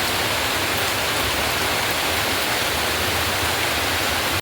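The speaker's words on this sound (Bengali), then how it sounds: "বাইরে তো ঝমঝমিয়ে বৃষ্টি হয়েই যাচ্ছে" Heavy rain pours outside during a windy morning, a dense, steady hiss filling the whole clip without a break, loud and close, with no voices.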